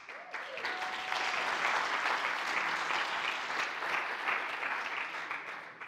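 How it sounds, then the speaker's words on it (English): A stage-talk audience gives a round of applause, dense even clapping swelling quickly and holding steady for several seconds without speech. "I appreciate the round of applause"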